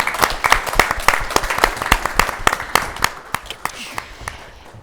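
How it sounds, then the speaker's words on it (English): Another round of applause for Sawyer and Miles at a pitch competition event, crisp, distinct hand claps from a smaller crowd, rhythmic and close at first, thinning out toward the end. "Another round of applause for Sawyer and Miles."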